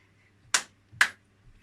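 Two sharp single hand claps in an exercise-to-music class for seniors and beginners, spaced about half a second apart, crisp and fairly close over a quiet low hum.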